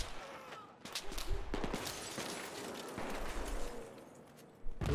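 Gunfire in the video game Battlefield 3, a burst of rapid shots with a heavy crack near the end, loud and close over constant background game noise.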